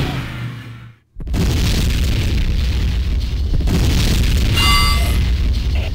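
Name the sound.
generator explosion in Tribes 2 video game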